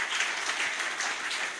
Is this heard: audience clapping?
yes